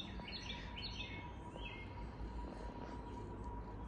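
Small birds chirp outdoors in a few quick high bursts over a steady low rumble of background noise, with no talking.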